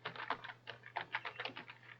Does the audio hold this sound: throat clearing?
no